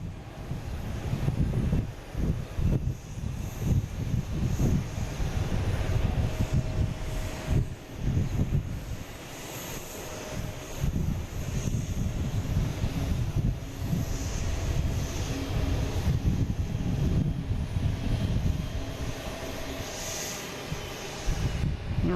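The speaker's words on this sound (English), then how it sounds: "we have Delta taking off here, heading to Amsterdam finally" A Delta airliner taking off bound for Amsterdam, heard as a steady distant engine roar with heavy wind buffeting on the microphone, sustained throughout.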